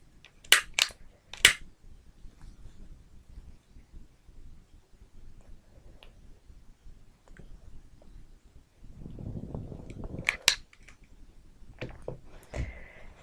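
Sharp, sparse clicks of a lighter trigger striking to light a flame: a quick cluster of three near the start and a few more near the end, close and isolated in a quiet room.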